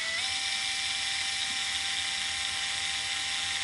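A drill-powered string winder spins a tuning peg while restringing a Trekki 2 travel guitar, giving a steady, loud, high-pitched whine that rises slightly in pitch as it spins up, then holds.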